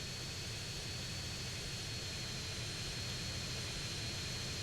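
A Shamal business jet in GTA San Andreas roars with a steady, broadband engine hiss and low rumble, continuous and fairly loud with no talking.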